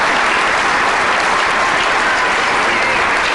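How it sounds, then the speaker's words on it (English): Loud, dense standing ovation from legislators and guests at a governor's inauguration in Minnesota, a continuous wash of many hands clapping close and evenly throughout. "Once the applause from a standing ovation subsided"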